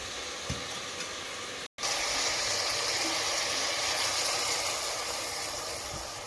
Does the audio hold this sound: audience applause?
no